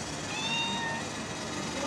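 A kitten meows in a hotel room in Giza, Egypt, its faint, thin cries rising over a steady, noisy room background.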